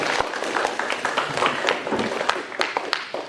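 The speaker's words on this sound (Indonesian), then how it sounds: "Kita tepuk tangan." An audience claps for a guest at a solar panel mentoring event at SMK Don Bosco school, a dense run of hand claps that holds steady and fairly close throughout.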